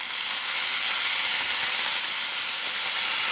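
Chipotle-lime chicken pieces sizzling steadily in a hot pan just after flipping, a continuous close, loud frying hiss with no talk.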